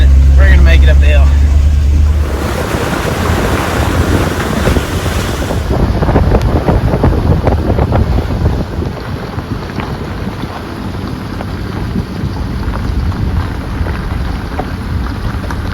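A Chevrolet Suburban climbs a foggy dirt hill in the Ozarks, its engine a steady low rumble buried under heavy wind buffeting the microphone, with voices talking over it.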